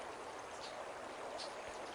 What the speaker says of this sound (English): At the other side of the lake was a 60-foot cascade of water, tumbling from another set of these hanging lakes higher into the mountain range